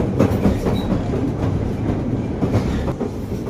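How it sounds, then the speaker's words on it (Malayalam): Onboard a tram in Lille: a steady rumbling roll with rhythmic clattering of wheels over track joints, fairly loud and continuous, no talking. "നമ്മൾ ട്രാം വന്നിരിക്കുകയാണ്. ഞങ്ങൾ ട്രാമിലാണ്."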